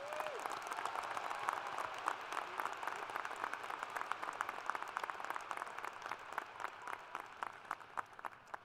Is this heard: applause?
yes